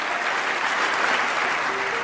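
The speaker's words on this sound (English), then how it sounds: "the whole hall erupts into applause and congratulations" A hall full of delegates applauds after the vote to retire the kilogram prototype, a dense, continuous roar of clapping filling the room at steady volume.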